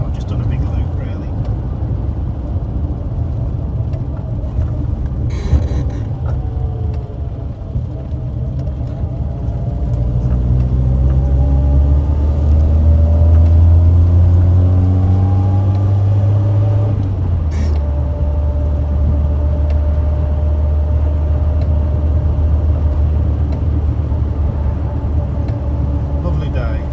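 An Austin Allegro car, 42 years old and just back from its MOT test, drives along a road with a steady engine drone and road rumble that rise as it accelerates through the gears, while a person talks over it from inside.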